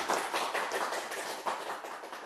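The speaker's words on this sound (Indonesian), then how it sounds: "Kita beri tepuk tangan dulu." Applause welcomes a guest onto a talk show, a dense, steady patter of many hands clapping at moderate loudness, with no speech over it.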